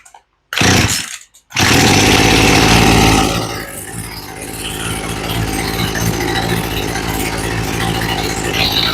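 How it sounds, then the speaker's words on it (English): Poulan Pro chainsaw on full choke: brief rattles of the pull cord, then the small two-stroke engine catches and screams loud and close before settling into a rough, buzzing idle. "Let's give it one pull with full choke to give it a little bit more gas."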